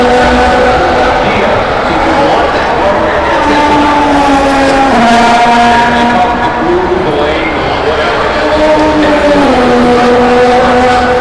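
Formula 1 cars at the Miami Grand Prix scream past, high engine whines rising and falling as they shift and brake into a turn, loud and continuous, with voices talking over them.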